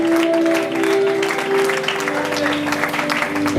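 A church congregation applauds Jesus during a worship service, with dense, steady clapping running through the whole stretch over sustained musical tones.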